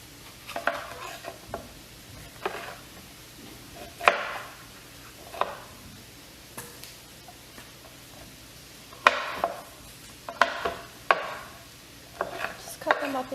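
Peppers being chopped into small cubes with a knife on a board, sharp irregular thuds in short bursts with pauses between, close and fairly quiet in a kitchen.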